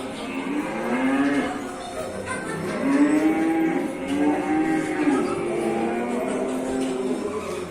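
Several cows moo in long, drawn-out calls, one after another, fairly close and loud over a steady background murmur, at a chocolate museum's farm display.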